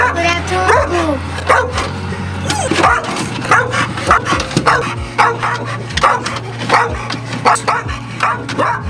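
A rescue dog barks repeatedly in short, loud bursts during a search-and-rescue exercise for a missing person, with people talking and moving nearby throughout.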